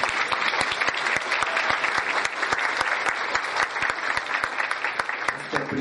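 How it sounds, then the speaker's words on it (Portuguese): An audience at an international law and sustainability congress panel applauds steadily, dense overlapping claps sustained throughout at a fairly even level, with no talk over it. "gostaria de pedir uma salva de aplausos para você"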